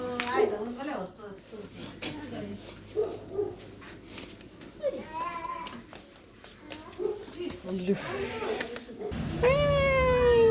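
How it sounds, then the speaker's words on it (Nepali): A cat at a hotel in Okhaldhunga, Nepal, lets out several short meows and whining calls scattered over people chatting nearby, with a rising, drawn-out cry near the end over a low hum. "यहाँ बिरालो हेर्न सक्नुहुन्छ गाइज।"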